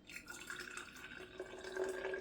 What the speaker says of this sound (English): I think we can pour it into the mason jars